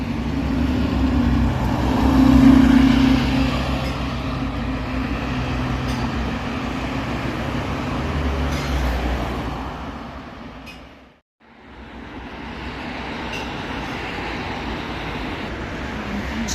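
A guided bus's engine hums and rumbles steadily as it pulls away on the Leeds guided busway, with a low drone that briefly cuts out before the noise resumes.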